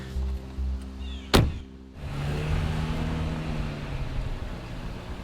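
A car carrying a young man drives away from a house in New Hampshire, a short sharp thump followed by a steady engine rumble that settles and fades as it pulls off, with no talking.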